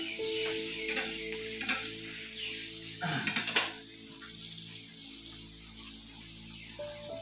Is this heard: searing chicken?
yes